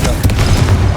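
A Confringo blasting spell from Hogwarts Legacy bursts with a deep, booming low-end explosion that rumbles steadily through the whole second, loud and close with no talk over it.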